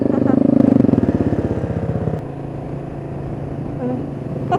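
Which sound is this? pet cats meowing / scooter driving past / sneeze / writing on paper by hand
scooter driving past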